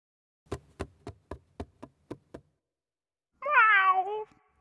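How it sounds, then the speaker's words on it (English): Seven evenly spaced knocks sound first, then after a short pause a single clear, drawn-out cat meow rises and falls, close and alone in a quiet setting. "It's a cat."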